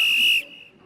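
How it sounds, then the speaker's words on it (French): A single sharp, shrill whistle blast sounds loud and close for under half a second, then cuts off, leaving a faint lingering tone and quiet room noise. "Sifflet, mon cher monsieur."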